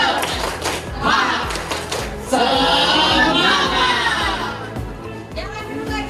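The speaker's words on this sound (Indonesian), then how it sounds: "Sekali lagi tepuk semangat." A classroom of students performs a rhythmic spirit clap, with evenly spaced claps under loud group voices chanting along in unison.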